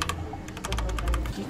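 Fingers tap rapidly on a computer keyboard in a computer store, a close, clattering run of quick keystrokes with no talk over it.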